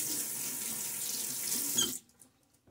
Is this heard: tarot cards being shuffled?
no